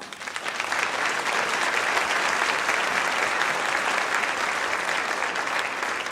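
Audience applause for Reverend Al Sharpton at a rally-style event, a dense, even roar of clapping from a large crowd that holds steady throughout.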